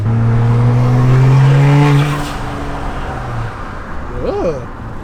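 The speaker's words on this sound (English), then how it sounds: "You can definitely hear the intakes, that's for sure." A BMW 335i engine with aftermarket intakes revs hard and loud with a throaty roar and prominent intake noise, then drops back to a rumbling idle before a brief squeal.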